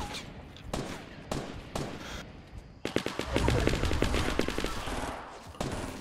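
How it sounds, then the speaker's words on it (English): Rapid gunfire bursts from the video game Fortnite, with sharp separate shots early on giving way to a dense, sustained automatic volley that rattles on loudly near the end. "what kind of gun is that?"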